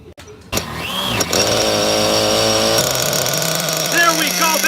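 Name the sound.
Zenoah 23cc gas engine of RC buggy running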